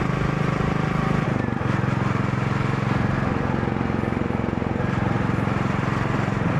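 A Royal Enfield Goan Classic 350 motorcycle being ridden, its steady engine drone and low thumping rumble continuous and close throughout, with road and wind noise layered over it.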